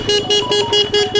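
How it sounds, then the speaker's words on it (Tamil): A passing road vehicle sounds its horn in pulsing bursts, a loud nasal honk repeated rhythmically about five times in quick succession, close by with traffic noise beneath. "ஏதோ ஒரு வண்டி வருதுங்க, ஹார்னை போடும்."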